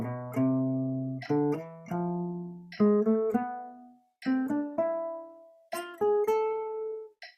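Guitar plays repeated groups of two quick notes and a longer one, four clean phrases of plucked notes with short gaps between, fairly quiet and alone.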